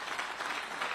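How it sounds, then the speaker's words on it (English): Audience applause at a Kiira Motors Corporation event in Uganda, a steady dense wash of clapping that holds evenly for about a second with no voices over it. "Round of applause, ladies and gentlemen,"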